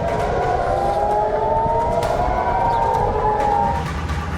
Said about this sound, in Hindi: सायरन की तेज आवाज,